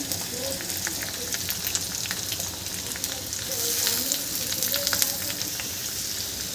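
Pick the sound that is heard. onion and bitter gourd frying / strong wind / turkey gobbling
onion and bitter gourd frying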